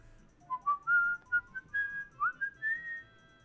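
A person whistles a short, wandering tune of clear rising and falling notes in separate phrases, close and alone against a quiet background.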